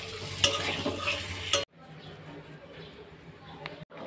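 Egg and potato dropped into hot spiced oil sizzle and hiss loudly while a utensil stirs and scrapes the pan, then the frying drops abruptly to a softer, steady crackle.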